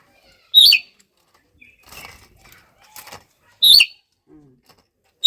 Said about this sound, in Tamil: ஆனால் மைனாவை இப்போதாங்கம்மா பக்கத்தில் பார்க்குறேன்